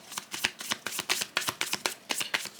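Tarot cards being shuffled in quick riffling bursts, a rapid rhythmic series of crisp papery flicks at close range with no talking.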